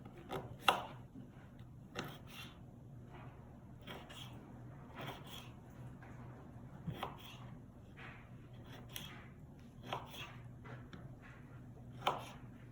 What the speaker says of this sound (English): Once we chopped our root, they are ready to roast.